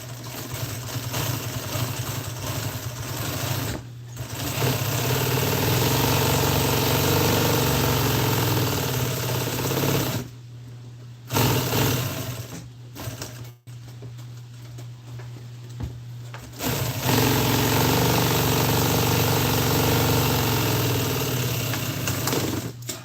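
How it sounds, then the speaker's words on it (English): A sewing machine stitches around the edge of an upholstery seat cover, running in long steady whirring bursts with several brief pauses between runs. "I'm gonna sew around this edge."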